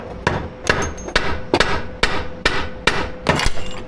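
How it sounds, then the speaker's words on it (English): A hammer strikes a Honda Fit oil pan again and again to break it loose, eight sharp metallic-wooden knocks in a steady rhythm about half a second apart, loud and close with no talking. "I should be able to hit it with the hammer and it wiggle back and forth and come off."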